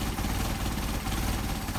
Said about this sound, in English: see RPM drop, you can hear the engine getting cobby